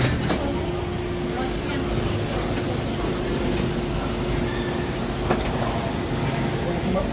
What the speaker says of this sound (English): Boarding has concluded for Monorail Orange.